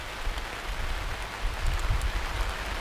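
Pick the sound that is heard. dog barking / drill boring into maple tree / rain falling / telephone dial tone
rain falling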